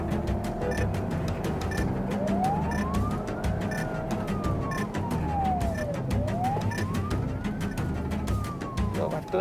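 A police car siren on a Western Cape highway patrol wails in slow rising and falling sweeps over the rumble of a moving vehicle.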